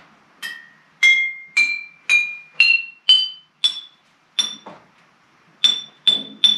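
Drinking glasses struck one after another ring out as a rising scale of clear, bell-like notes, about a dozen crisp close strikes, each decaying quickly, with the last few repeating the same pitch.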